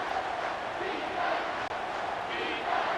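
Stadium crowd noise from a College Football 25 game, Georgia vs Texas, a dense continuous roar swelling slightly near the end.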